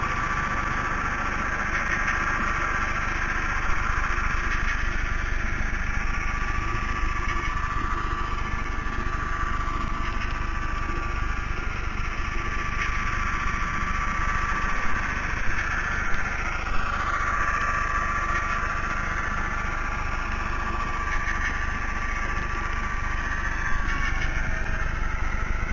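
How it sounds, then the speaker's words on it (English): A model railroad locomotive runs notched down a few notches on flat track, giving a steady, close mechanical engine drone with constant vibration and faint rattling that continues unbroken with no voices. "The engine is just notched down a couple of notches as we're now on the flat"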